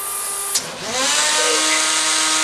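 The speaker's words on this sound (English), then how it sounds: "it is time to test the mini drill." A mini drill mounted on a Robosapien robot whirs up after a sharp click, settling into a steady high-pitched motor whine that runs alone and close until the end.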